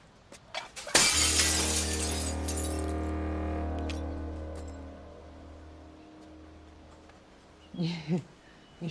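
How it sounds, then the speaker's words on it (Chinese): A handmade glass piece with a seaweed design, flawed by an air bubble, smashes loudly on a hard surface. The sharp crash is followed by a long ringing tail that slowly fades, and a brief voice is heard near the end. "有气泡就要摔了？"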